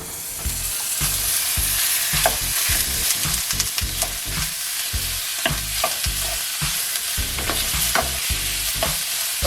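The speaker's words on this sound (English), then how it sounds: "I'm going to sear these pork in the pan." Pork cubes searing in a hot pan, a steady close sizzle with rhythmic scraping and stirring clatter throughout, no voices.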